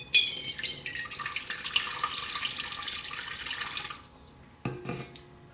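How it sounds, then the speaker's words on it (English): Body-temperature water pours steadily into a KitchenAid mixer bowl for bread dough, a close, bright splashing stream lasting about four seconds, then stopping, followed by a short clunk and a small drip. "I'm going to put a little bit of water in here."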